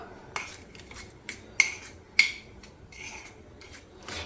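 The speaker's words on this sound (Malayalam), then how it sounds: "നന്നായിട്ടൊന്ന് ഇളക്കി കൊടുക്കാം" A spoon stirring yogurt in a bowl, giving a few sharp clinks and scrapes spaced irregularly, close and fairly quiet with soft rubbing between them.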